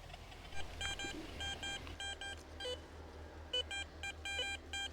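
A metal detector sweeping over a field island between farm fields gives repeated shrill electronic beeps in short bursts, moderately loud over steady low outdoor rumble, with no talking.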